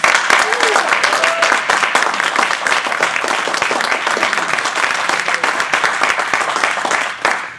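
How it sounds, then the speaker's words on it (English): A speech contest audience bursts into continuous applause, dense and steady throughout, filling the room at close range with a faint voice briefly audible within it. "let's open it up with a round of applause"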